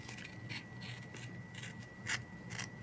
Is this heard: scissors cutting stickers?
yes